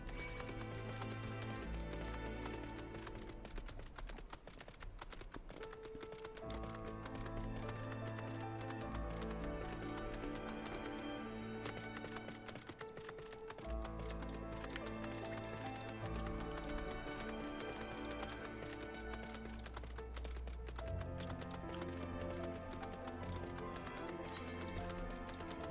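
Clip-clop of a mount's hooves as it carries the player across the world of Final Fantasy XIV: Heavensward, a steady trot under a continuous layer of game music.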